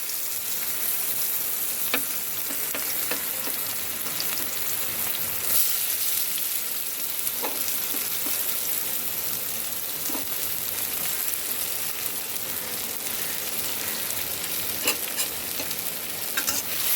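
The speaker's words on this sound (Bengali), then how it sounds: "এই মাছ ভাজার তেলে দিয়ে দিচ্ছি রসুন কুচি" Chopped garlic and onion frying in oil previously used to fry fish, giving a steady, loud, dense sizzle throughout with scattered crackles and the scrape of stirring.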